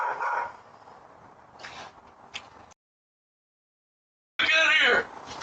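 A dog in a backyard, captured by a doorbell camera, lets out a loud burst of barking after a stretch of muffled noise and a brief silence.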